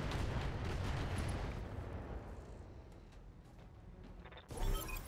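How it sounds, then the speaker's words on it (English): Mech weapons fire in the video game RogueTech, a BattleTech mod, sounds as a loud, rumbling barrage that slowly fades, followed by a sharp burst near the end. No one talks. "Let's just fire and hope for a headshot."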